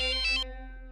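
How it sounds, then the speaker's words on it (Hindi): An office call rings through on a phone, a short electronic ringtone with a few quick bright pulses over a steady tone that then fades out. "ओहो, मार्फतिया का फोन आ गया ऑफिस से"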